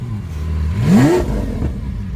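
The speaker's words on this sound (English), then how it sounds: "The IP system is very loud." A Lamborghini Aventador Roadster fitted with an IPE exhaust gives one quick rev, its engine note sweeping sharply upward and then dropping back to a low rumble, close and loud.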